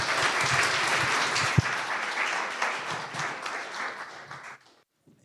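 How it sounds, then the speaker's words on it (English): Big audience applause for TEDx speakers at a conference on circularity in construction, dense sustained clapping that fades out near the end, with one sharp knock partway through. "I want to end with a big applause for our TEDx speakers"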